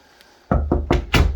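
Four firm knocks land on a solid interior door in a house, close and evenly spaced, each a dull wooden thud with a short ring-out.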